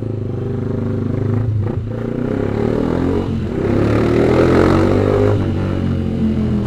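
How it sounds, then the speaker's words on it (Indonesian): A motorcycle with a racing exhaust filtering through traffic, its loud engine note droning steadily and swelling as it accelerates among passing vehicles. "Enak nih kalau knalpot racing itu buat filtering itu enak banget."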